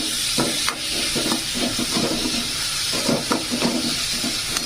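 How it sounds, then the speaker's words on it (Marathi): Chopped onions fry in a pan, browning slowly, giving a steady close hiss with occasional soft scrapes of a spoon stirring them. "आता ह्याला आहे ना छान फ्राय करून घ्यायचं थोडंसं लालसर करून घ्यायचं आहे कांद्याला"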